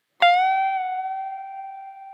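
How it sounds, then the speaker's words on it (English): A single guitar note is struck and held with sustain, its pitch bending up, dipping slightly, then rising again as it slowly fades. "you're going to pull it back slightly and then bend it up again full."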